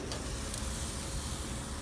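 A T-bone steak with garlic herb chipotle butter searing on a grill, a loud, even, continuous sizzle and hiss with no pauses.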